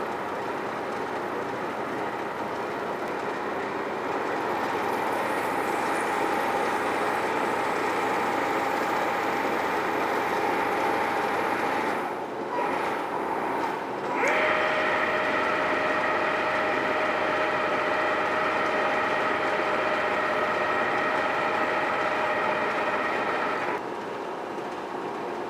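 A radial drill runs a tap lubricated with anchor lube in a machine shop, while making a drawbar for a Cincinnati horizontal milling machine. A steady mechanical hum with a sustained whine runs throughout, dipping briefly midway before resuming.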